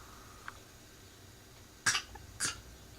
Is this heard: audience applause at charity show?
no